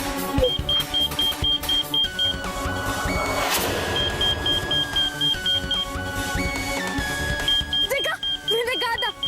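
A suspected bomb egg gives off a steady, repeating electronic alarm beep, evenly spaced and fairly loud throughout, with cartoonish music and other sound effects playing around it.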